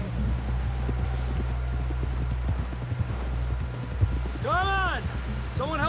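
Horse hooves clip-clop in a steady rapid rhythm in the Red Dead Redemption 2 video game, close and continuous, with a horse whinnying near the end over a low rumble.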